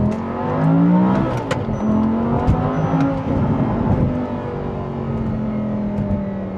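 A modified Audi R8 V10 Plus with a gated manual is driven hard, its engine revving up with rising and falling tone, a close, loud roar with pitch sweeps as it shifts and eases off.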